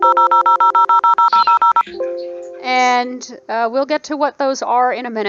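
Screen reader tones in the Eurofly 2 flight simulator sound as a quick, even run of short, clipped electronic beeps, followed by a few sustained tones. A voice then starts talking over the tail of the sequence.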